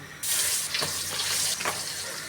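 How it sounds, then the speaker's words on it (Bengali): A sudden loud sizzle as pabda fish hits hot oil, continuing as a steady close crackle with a couple of brief spatter surges. "তেলটা গরম হয়ে গেছে। এখন আমি মাছগুলো দিয়ে দিব।"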